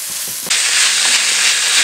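A stuffed mackerel mixture hits a hot pan with a sudden loud hiss that then holds as a steady, close sizzle, following a few soft clicks.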